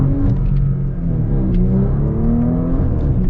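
A Porsche Panamera E-Hybrid accelerating hard, a loud, close engine rumble climbing steadily in pitch over a few seconds, with no talk.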